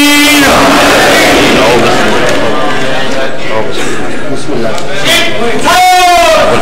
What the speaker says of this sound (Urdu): نعرے سے استقبال کیجیے نعرہ تکبیر نعرہ رسالت جب نعرہ حیدری